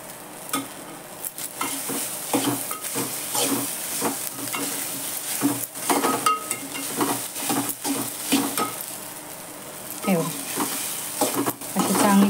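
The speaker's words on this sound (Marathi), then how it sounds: "चांगला परतून घेऊ आपण." Sabudana khichdi sizzles as it is sautéed in a pan, with continuous frying hiss and repeated scraping strokes of a spoon stirring through it, close and steady throughout.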